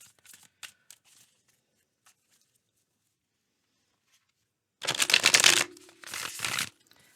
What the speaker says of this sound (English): Let me get some shuffles in here.